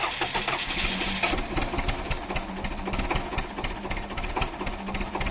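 An engine, after a long spell of hard frost, cranks and sputters repeatedly with a rapid, uneven clatter, struggling to catch and failing to build revs, heard up close.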